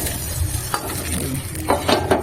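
Egg and prawn pieces frying in a pan, with a spatula scraping and stirring in a few quick strokes over a low background sizzle.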